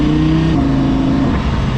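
An Audi R8 race car on Trofeo R tyres driving on a public street, its engine droning loud and steady from inside the cabin, with a held tone that shifts pitch partway through.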